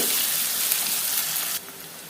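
Onion pieces frying in oil for an aloo curry, a loud continuous hissing sizzle that suddenly drops to a quieter sizzle near the end, no talking.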